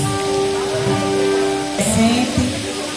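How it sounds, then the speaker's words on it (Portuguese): Rain falls steadily as a broad hiss during an evangelical church service, with a sustained tonal hum and some faint voices and thumps underneath. "Glória a Deus por essa chuva."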